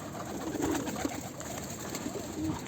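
Pigeons in a coop give soft, low coos over a steady background hum, with a few brief calls spread across the moment.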